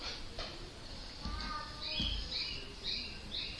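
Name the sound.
pet birds squawking and chirping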